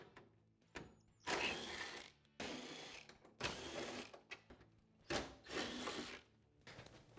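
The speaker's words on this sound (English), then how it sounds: "we're going to remove the 4 M6 T40 Torx bolts out of the back of this bed right here" A ratchet with a T40 Torx bit works loose the M6 Torx bolts at the back of a Polaris RZR Pro XP bed, making several close, rhythmic bursts of clicking and grinding separated by brief pauses.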